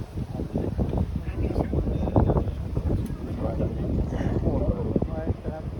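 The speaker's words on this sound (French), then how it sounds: "Là il y a du vent" Strong wind buffets the microphone outdoors by a river on a chilly spring day, heavy rumbling gusts running the whole time while people talk nearby.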